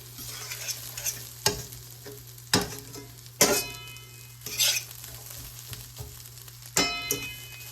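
Chickpeas and potatoes being mashed in a sizzling pan, a steady frying hiss punctuated by sharp scraping knocks of the utensil against the pan at irregular intervals, close and clear.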